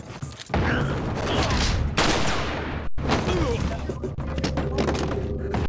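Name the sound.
gunshots shooting portraits in video game Resident Evil 4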